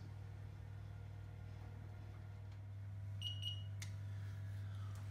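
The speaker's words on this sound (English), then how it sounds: "as you can hear, the buzzer's going off" Oven timer buzzer sounding during bread baking: a few short electronic beeps in a quick cluster, then a brief sharper tone, faint over a steady low appliance hum.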